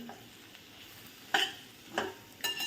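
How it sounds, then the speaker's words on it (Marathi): Raw mango pieces stirred in a hot pan with chili powder and homemade masala: a low steady sizzle broken by three scraping strokes of a spoon against the pan, close and without speech. "2 मिनटं त्याला व्यवस्थित मिक्स करून घ्यायचं म्हणजे आपलं तिखट व्यवस्थित फ्राय होईल"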